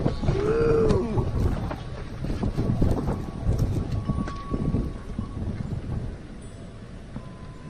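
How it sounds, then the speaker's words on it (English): Strong gusty wind roars steadily across the microphone during an April snowstorm in Wausau, Wisconsin, loud and continuous, blowing snow around, with a brief exclamation near the start. "It's windy."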